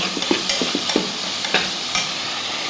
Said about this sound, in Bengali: জিরা বাটা মশলাগুলো হালকা কষাই নিয়ে